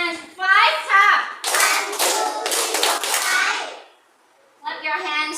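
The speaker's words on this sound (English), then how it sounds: "Clap your hands 5 times." Children clapping in a classroom counting exercise, a burst of fairly close, sharp claps mixed with kids' voices, then a brief quiet gap before childish chatter returns.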